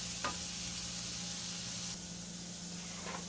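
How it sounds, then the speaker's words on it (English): Food sizzles steadily in a hot pan, a constant crackling hiss with a low hum underneath and no talking. "It's already sizzling"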